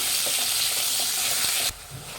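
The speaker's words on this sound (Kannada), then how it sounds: "ಇದು ಮೆತ್ತಗಾಗೋವರೆಗೂ ಫ್ರೈ ಮಾಡಬೇಕು ಎಣ್ಣೆಲಿ" Green chilies frying in oil for a peas rice bath, a loud broad hissing sizzle with faint stirring taps that drops suddenly to a quieter hiss near the end.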